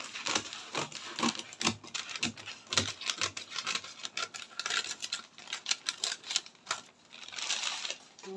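Scissors cutting fabric draped on a dress form, a close, continuous run of small crisp snips and clicks in an uneven rhythm, fairly quiet, with no talk.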